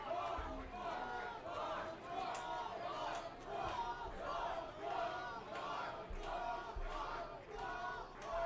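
A baseball crowd at an IBL playoff game between the Welland Jackfish and the Toronto Maple Leafs cheers and rumbles steadily through an at-bat, with swelling waves of distant voices and chants.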